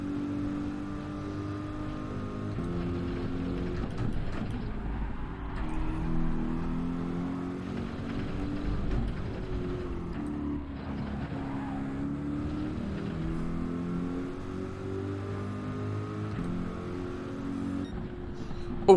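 Race car engines drone continuously in Gran Turismo 7, with rising and falling revs as gears shift, and a loud, steady, buzzing engine tone throughout with brief higher-pitched passes layered in.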